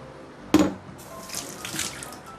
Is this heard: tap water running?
yes